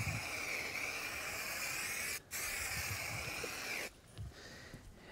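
A continuous hiss of spray paint from a can marking the ground outdoors, held for several seconds with a brief break, then tapering off into quieter background noise.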